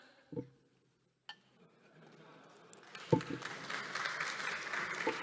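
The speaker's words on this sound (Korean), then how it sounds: "저 본회의장에서 박수 치는 거 아닙니다" Applause fills the National Assembly plenary chamber during a political speech. A few isolated knocks come first, then clapping swells and carries on as a dense, steady patter through the rest of the moment.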